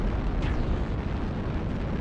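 Artillery strike explosions in the mech combat game MechWarrior Online, a heavy, continuous rumbling barrage of booms that stays loud and dense from start to finish with no talk.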